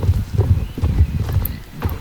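Horse hooves clip-clop at a steady walking pace in the online game Star Stable Online, close and clear, with a faint whinny-like tone at moments and no speech.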